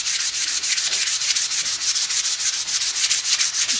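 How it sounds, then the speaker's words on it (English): Hand sanding a small hatchet's wooden handle with 180 grit sandpaper, heard as a steady, close, rhythmic scratchy rubbing of quick back-and-forth strokes with no talking. "this is some 180 grit paper. I'm just taking it and I'm hand sanding it"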